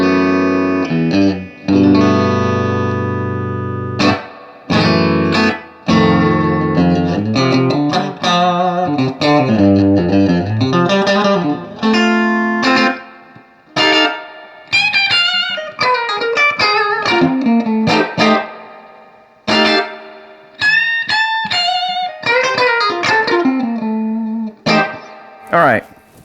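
Electric guitar played through a Danelectro Cool Cat chorus pedal with heavy spring reverb: a sequence of strummed chords and picked single-note phrases with shimmering, wavering tone and long reverb tails, loud and close.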